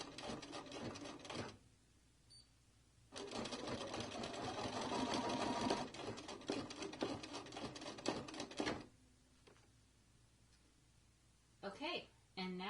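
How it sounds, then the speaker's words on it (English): An embroidery machine stitches a zippered in-the-hoop pouch, its rapid mechanical needle chatter running in bursts of a few seconds broken by pauses, with a person speaking briefly between runs. "now we're going to start stitching, and it'll just stitch it right into place"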